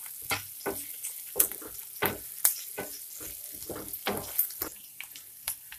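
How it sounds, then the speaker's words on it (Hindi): Grated garlic and ginger fry in a pan while making veg momo filling. A soft sizzle runs underneath, broken by irregular close clinks and scrapes of a spoon stirring. "इसके साथ ही हम इसमें डाल देंगे ग्रेट किया हुआ ये लहसुन और अदरक, इसे भी हल्का सा भून लेते"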